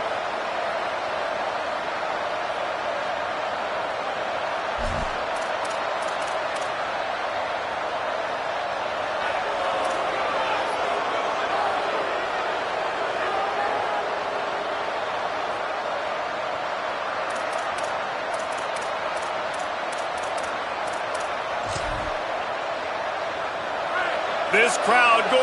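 A steady, loud roar from the stadium crowd at an Oregon football game, a constant wash of massed voices with a couple of dull thumps rising out of it.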